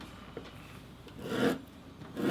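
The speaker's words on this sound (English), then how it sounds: "we're gonna skive this down before we install" A blade skiving a strip of leather thin for piping gives soft rasping scrapes, a brief tick and then two longer rubbing strokes, close and quiet with no talk.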